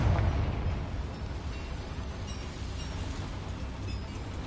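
A Confringo spell blast in Hogwarts Legacy, set near a boiler: a loud fiery burst at the start that fades into a sustained, rumbling roar.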